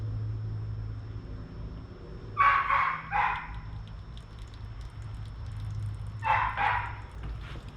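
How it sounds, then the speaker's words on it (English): A neighbor's dog barks outside in two short bursts of several barks each, moderately distant, over a low steady background hum. "So he's gonna be barking throughout this whole video, unfortunately."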